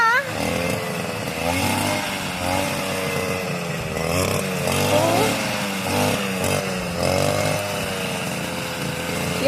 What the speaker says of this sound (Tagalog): Yung ang tawag ko niyan ay grass cutter. So, gasolina lang ang laman niyan.